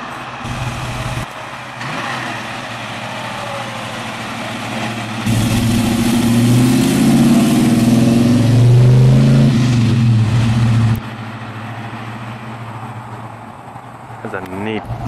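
A cranberry red 1970 Chevelle 396 SS with a four-speed idles with a rough, deep rumble, then revs up loudly for several seconds before settling back to idle.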